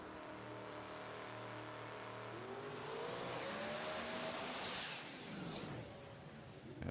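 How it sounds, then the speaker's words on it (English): A distant drag racing car engine drones and climbs in pitch as boost builds, swelling louder with a rushing roar before fading slightly. "You can hear the boost building in Morgano's machine on the right side"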